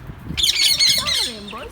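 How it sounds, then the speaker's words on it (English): A lovebird among many kept birds gives a loud, close, harsh squawk followed by a few rising and falling chirps. "And this is a lovebird."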